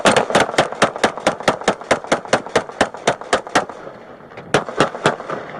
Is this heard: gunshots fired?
yes